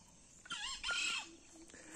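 A rooster crows once at moderate distance, a rising, wavering call lasting under a second, followed by quieter clucks against faint background noise.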